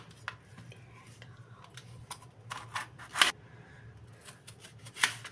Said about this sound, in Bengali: তাই আমি সব কটা সবজিকে পিস পিস করে কেটে নিচ্ছি।